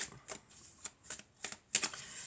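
Tarot cards are shuffled by hand in a quiet room, giving several short, soft riffling bursts about every half second, ending in a slightly louder flurry. No voice is heard.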